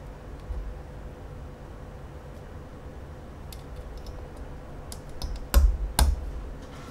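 Keystrokes on a custom 75% RART75 mechanical keyboard fitted with Gateron Yellow and Milky Yellow switches, a soft steady patter of light clicks with a couple of louder clacks near the end, close and with no voices.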